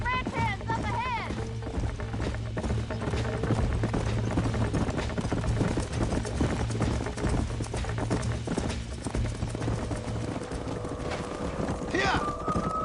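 Horses gallop and whinny in the Western video game Red Dead Redemption during a horse-wrangling ride. Dense, steady hoofbeats run throughout, and several neighs cut through, including one near the start and another near the end. Voices are faintly present.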